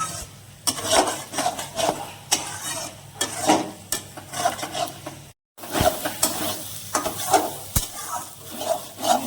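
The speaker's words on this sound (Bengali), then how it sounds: "এবার এখানে আমি পনিরের টুকরোগুলো দিয়ে দেব। দিয়ে এটা ভালো করে একটু সামান্য কষিয়ে নেব।" Paneer pieces fry in a spice masala while a spatula scrapes and stirs the pan in repeated strokes, with a steady sizzle underneath and a brief pause midway.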